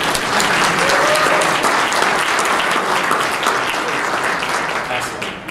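Audience applause and cheering at a keynote address, a loud, dense wash of clapping that holds steady throughout and begins to taper off near the end.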